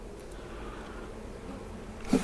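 Honey bees hum around open hive brood frames during a Demaree split, a faint, steady buzzing swarm texture with no voices, swelling briefly near the end.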